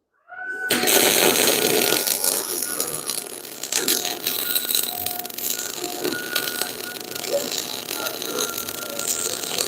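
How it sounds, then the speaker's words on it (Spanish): MIG welding of a leaf-spring base onto a Rockwell rear axle, a steady loud crackling buzz that starts abruptly and continues with slight fluctuations close up. "a soldar este extremo."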